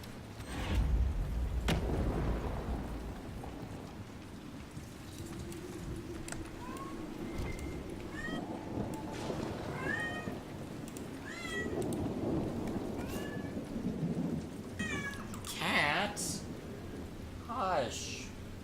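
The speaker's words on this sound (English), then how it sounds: "Yeesh, whiny kitties" Several whiny cats mewl in short rising and falling cries, scattered through the stretch and clustered near the end, over steady low background noise with occasional thumps.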